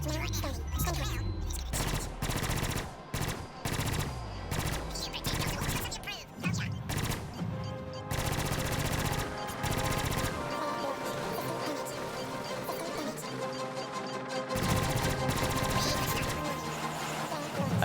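Gunfire against pirate ships in the space video game Star Citizen: dense, rapid bursts of automatic shots with heavy booming impacts, sustained and loud throughout with short pauses, and a voice speaking over part of it.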